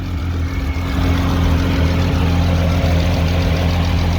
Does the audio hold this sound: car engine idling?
yes